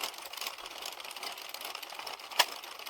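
An Addi 22-needle circular knitting machine being hand-cranked, a continuous rapid mechanical clatter close by, steady in level with one brief sharp click near the end.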